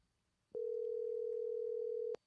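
A steady telephone dial tone sounds for about a second and a half while a call is placed, loud and unbroken between brief clicks at start and end, with no talk.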